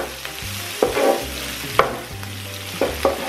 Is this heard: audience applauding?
no